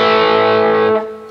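Distorted electric guitar playing a slide riff in open A, a loud sustained chord with a slide that fades out near the end, with no talking.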